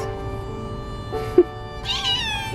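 Indoor house cat giving two meows, a short one partway through and a longer, rising-and-falling one near the end, over a steady electrical hum in a quiet room.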